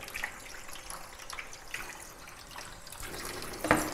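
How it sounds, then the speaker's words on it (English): Running tap water rinses an object during a live art session, a steady wash of splashing under the faucet with a sharper burst of water near the end; no talking. "So let me rinse that."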